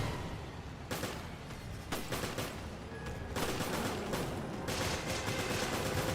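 Rapid video-game gunfire from a magnum handgun, sounding as dense bursts of sharp shots that repeat through the stretch and grow more continuous in the second half, at moderate loudness without talk.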